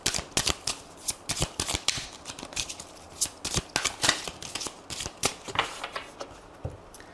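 A deck of oracle cards being shuffled and cut, giving rapid papery riffles and flicks in irregular bursts, close and fairly quiet, with no talking.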